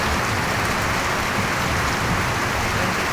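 Heavy rain pours onto a house roof in the Philippines, a loud, constant, dense patter and hiss that holds steady throughout without voices.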